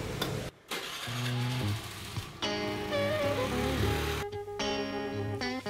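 A rented scooter's engine starts and revs on a Bali road trip, sputtering with a couple of short cutouts and uneven bursts of throttle, close and loud, with musical tones mixed in.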